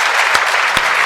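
Audience applause at a Hindi poetry recital, loud dense clapping from a crowd with a couple of sharper claps standing out.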